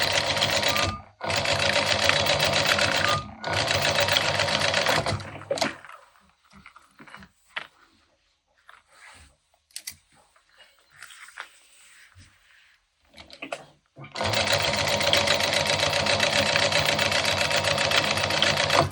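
A sewing machine stitches a zip in loud, close runs of rapid needle chatter. A long run is broken by a brief stop, then comes a quiet stretch with faint handling knocks before a final sustained burst.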